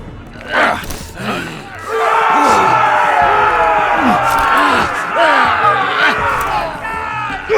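An arena crowd in the Game of Thrones Telltale video game roars and shouts together, a dense sustained cheer of many voices that swells after a brief quiet opening.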